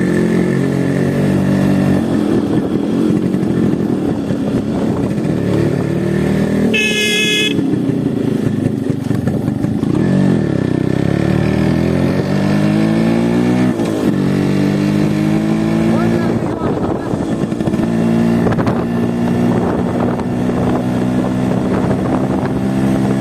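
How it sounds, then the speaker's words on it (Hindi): Yamaha RX100 motorcycle with a cut muffler fitted in its silencer, revving loudly and close by at a deserted spot, the engine note rising and falling in repeated throttle sweeps over a steady rumble. "मेरे गाड़ी में कट मफलर लगा हुआ है, उसे निकाल कर आपको साउंड सुनाऊँगा और बिना निकाले भी आपको साउंड सुनाऊँगा।"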